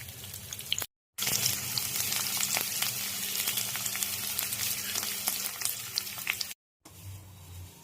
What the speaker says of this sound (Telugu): ఆయిల్ వేసి ఆవాలు, వేసి ఎర్రగడ్డ కరివేపాకు వేసుకున్నా